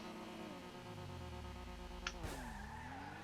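A race car launches in a drag race in GTA 5, its engine droning loud and steady before the pitch dips and climbs again with a brief sharp chirp as the car takes off.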